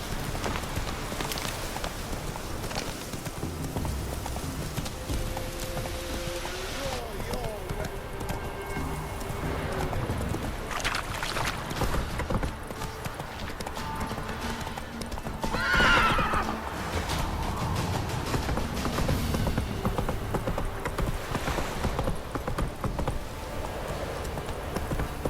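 Roach, Geralt's horse in The Witcher 3, clip-clops and neighs over a long stretch, with hoofbeats under game ambience, a soft rain-like hiss and a brief speaking voice.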